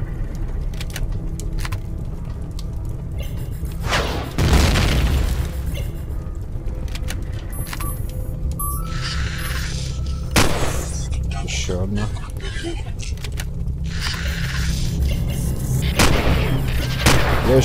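A turret fires in the space survival game Empyrion - Galactic Survival, with heavy booming shots standing out at intervals over a steady game rumble while someone talks throughout.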